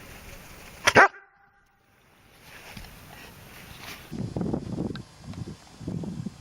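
A ten-month-old dog in a month-long obedience training course gives one short, loud bark. A quiet pause follows, then muffled handling noises and soft movement sounds continue.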